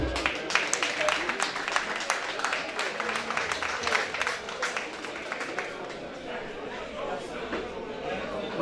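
Audience applause and cheering from a crowd honoring Haitian compas bass player Joe Charles at a tribute event, sustained dense clapping with crowd noise and voices mixed in throughout.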